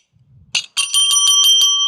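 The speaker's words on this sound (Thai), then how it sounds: "มึงกดกระดิ่งดิ เอากระดิ่งกูอ้ย" A bell is pressed and rung, giving a short tap and then a bright, rapid metallic trill of about six strikes, close and loud in a quiet setting, with no talking.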